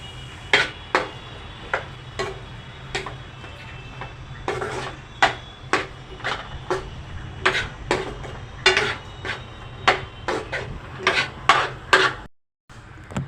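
A utensil stirs steamed cauliflower and potato in a pan, knocking against it in a steady series of sharp taps, about one per half-second, over a low continuous hum.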